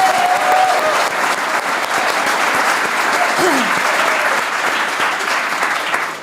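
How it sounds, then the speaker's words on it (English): An audience claps in a sustained, dense round of applause for a substitute speaker at a live podcast event, loud and steady throughout with a faint crowd murmur underneath. "we need a massive, massive round of applause for Connie Shaw"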